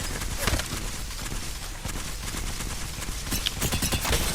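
LMG firing short bursts in a first-person shooter, a dense clatter of rapid gunshots with sharp transient pops repeating across the clip amid game background noise.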